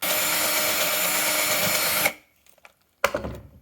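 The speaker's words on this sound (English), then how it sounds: "I have a countersink bit." A power drill with a countersink bit bores into pallet wood in one loud, steady whir lasting about two seconds, then stops, followed by quiet handling noises and a short clatter.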